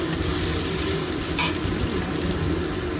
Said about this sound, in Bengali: সয়াবিনগুলো আমি লাল লাল ভেজে নেব।